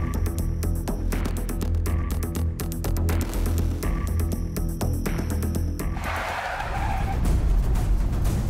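A car skids with screeching tire squeal over a heavy engine roar, loud and sustained for several seconds before giving way to a rough, throbbing rumble.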